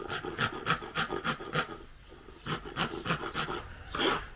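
A hand file rasps on a workpiece in steady back-and-forth strokes, about a dozen close, distinct scrapes with a short pause in the middle and no talk.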